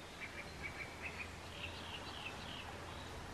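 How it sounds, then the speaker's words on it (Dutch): Birdsong carries through the open air: a series of short, high chirping calls from a reed warbler and a cuckoo, fairly faint and distant, repeating against a steady low background hum. "Ik hoor de karakiet volgens mij en ik hoor wel een koekoek."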